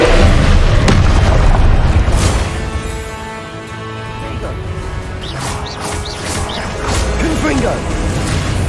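Booming blast-spell explosions from the video game Hogwarts Legacy, heavy and loud at first, easing briefly, then swelling again with crackling impacts and game effects layered throughout.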